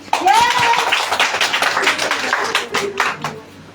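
An audience bursts into clapping at a women's program in an office hall, a dense, steady patter of many hands that starts abruptly and carries on throughout.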